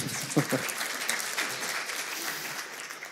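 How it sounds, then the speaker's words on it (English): Audience applause at a panel discussion for an organisation's 10th anniversary event, a steady wash of many hands clapping at moderate level, with a faint voice briefly heard near the start. "You can applaud."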